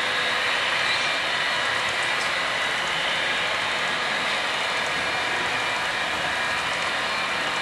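A model train on a CN and CP railroad layout runs steadily, producing a continuous, fairly loud rolling rumble and hiss with no pauses and no speech.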